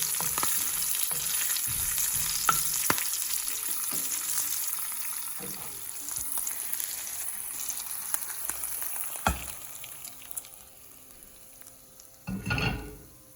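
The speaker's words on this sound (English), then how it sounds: "add this tempering to the rice" Tempering sizzles and fries as it is added to lemon rice, with steady crackling and stirring scrapes throughout and a louder burst of sizzle near the end; no talking.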